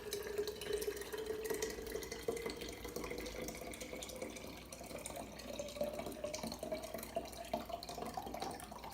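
Water poured into a container of energy drink mix, a quiet steady trickle and fill with a rising pitch as the vessel fills, faint and close, with no talking.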